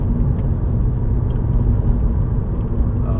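Mini Cooper S engine in sport mode, a steady low rumble and drone held at constant loudness throughout, close and continuous with no voices.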